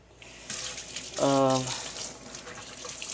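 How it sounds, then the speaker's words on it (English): Hands being washed under a running kitchen tap while cooking dinner, a steady close splash of water with a brief louder burst of flow midway, and a voice talking over it. "So the first thing would be, that's right, wash my hands."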